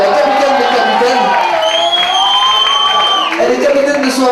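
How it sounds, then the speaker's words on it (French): An audience applauds and cheers for Marion as she is welcomed on stage at an evening event, with steady, dense clapping and whoops and a whistle-like cry rising above the crowd. "on va applaudir Marion"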